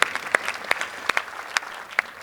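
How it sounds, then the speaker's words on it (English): Scattered, uneven claps from a small audience at a leadership conference in Iceland, a handful of sharp individual hand claps spaced irregularly over a quiet room rather than a full ovation. "So that deserves a round of applause."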